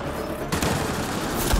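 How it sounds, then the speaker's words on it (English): Dense automatic gunfire in a gun battery firefight in the Mass Effect Andromeda video game, a loud continuous burst of rapid shots with booming impacts, close and sustained throughout. "It's a gunfight in the gun battery then."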